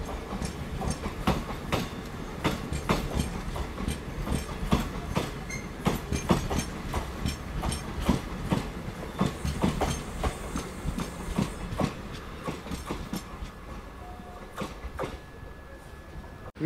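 At Barkur railway station on the Murdeshwar SF Express, a crossing train passes alongside, its wheels beating a dense, rhythmic clickety-clack over rail joints with a low rumble, moderately close and steady before easing off.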